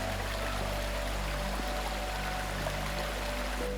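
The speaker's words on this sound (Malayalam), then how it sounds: "ചെറിയൊരു വെള്ളച്ചാട്ടത്തിന് സമാനമായി വെള്ളം ഒഴുകി വരുന്ന കാഴ്ചയാണ് ഇവിടെ കാണാൻ കഴിയുന്നത്" Clear water pours steadily over the Kizhoor aqueduct in Ottapalam, Palakkad, like a small waterfall, a continuous close rushing wash with no voices.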